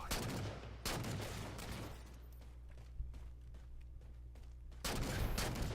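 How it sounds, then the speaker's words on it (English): Pistol fire in the video game Halo 4 during a SWAT multiplayer match: a few sharp, loud shot bursts stand out against quieter ongoing game ambience and scattered distant reports. "That was switched to the pistol, and quickly pulled off that kill."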